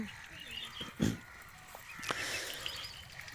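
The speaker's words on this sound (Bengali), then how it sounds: "চীনা হাঁস" Chinese geese honk on a farm, a few short calls rising over a noisy background, with one louder burst near the start and fainter calls later.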